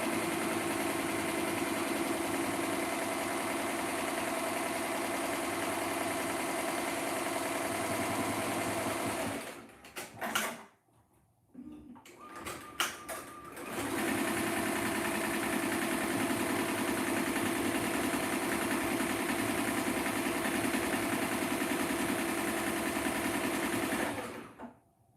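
An embroidery machine in a small T-shirt shop runs and stitches with a loud, steady mechanical whir, stops briefly midway with a few clicks and clunks after a bobbin thread break, then resumes until cutting off.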